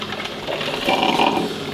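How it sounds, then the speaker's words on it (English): A Good Morn coffee maker that has run out of water trickles and sputters with a close, steady mechanical buzzing hiss that swells briefly in the middle, with no one speaking. "the Good Morn's run out of water, and that's just trickling."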